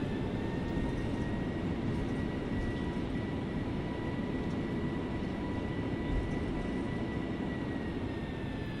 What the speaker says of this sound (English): I leave the reversers on longer in this plane because man, it just does not want to stop.